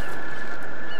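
A bird in a survival video game gives one sustained nasal honk, steady and fairly loud over a low rumbling background.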